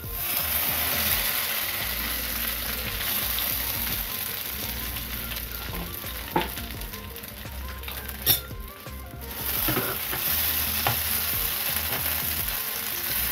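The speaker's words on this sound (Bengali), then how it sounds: "একটু ভাজা ভাজা করে নেব ঘিয়ে" Palm fruit pulp paste frying in ghee over low heat, a soft continuous sizzle with scraping stir sounds and a few sharper clicks, fairly quiet and with no talk.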